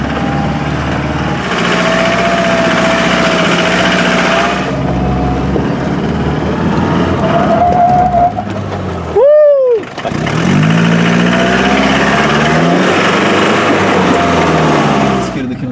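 Troller T4 jeep climbing an off-road uphill trail in first gear, engine droning loudly and steadily, then revving hard in a rising surge before settling back to a strained, continuous labor, with someone talking over it.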